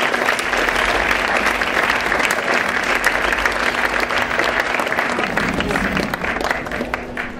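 Crowd applause at the opening of the Dauner Kirmes fair in Daun, a steady, dense wash of clapping over a low constant hum, with voices faintly mixed in.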